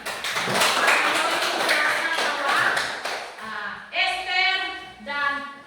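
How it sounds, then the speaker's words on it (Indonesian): A short burst of hand clapping for a person named Noi, with sharp, close taps for about three seconds before giving way to sustained tonal sounds. "kita tepuk tangan untuk Noi"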